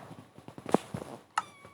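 A cat in the video game Minecraft gives two short, close meows amid faint soft clicks, the first meow louder and the second higher and briefer.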